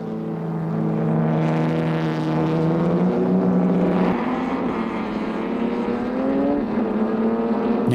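A loud vintage ERA racing car engine, 2-litre, drones steadily, pitch rising and shifting as it revs, close and continuous throughout.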